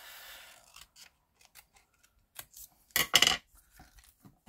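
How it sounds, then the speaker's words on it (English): Scissors cut a piece of paper in half during a card-stamping craft, with a few sparse soft snips and rustles and one louder crisp cutting burst in the middle. "So next we need to cut this in half."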